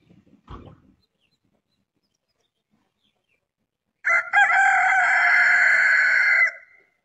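A rooster crows once, loud and close, a long sustained cock-a-doodle-doo lasting over two seconds, preceded by a short faint knock and a stretch of silence.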